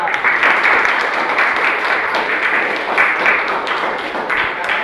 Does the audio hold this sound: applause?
yes